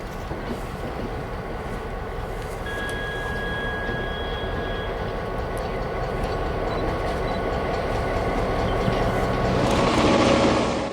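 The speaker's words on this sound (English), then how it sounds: "ABBA set of helpers head east around Cape Horn, followed by a westbound freight." Freight train rumbling steadily at Cape Horn, an ABBA set of helper locomotives heading east with a westbound freight following, loud and continuous throughout with a faint whistle-like tone partway through and a brighter rush near the end.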